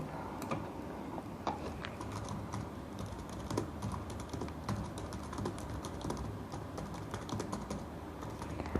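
Steady, fast typing on a computer keyboard while entering a chart title in an Excel spreadsheet, the close, irregular key clicks running continuously for the whole stretch with no speech.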